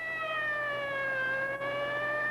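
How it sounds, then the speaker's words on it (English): A fire engine siren wails steadily and loudly in one continuous slowly falling tone, with no talking. "Does it seem exciting when you see the fire engines racing by?"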